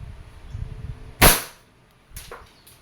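A WE 2011 Hi-Capa T-Rex semi-automatic airsoft pistol fires one sharp, loud snap up close, followed by a couple of fainter clicks.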